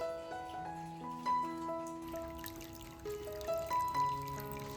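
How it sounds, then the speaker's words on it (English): Melting snow drips from a roof on a quiet winter night at a hot spring inn in Kusatsu, Japan, a soft trickle with scattered drops under faint steady tones, no talking. "listening to the sound of melting snow dripping from the roof"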